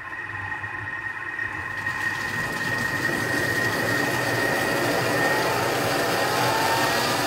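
A Thermomix food processor blends carrots at speed 6, its motor spinning up over the first couple of seconds into a loud, steady whirring roar that holds close and constant until the end, with no talking.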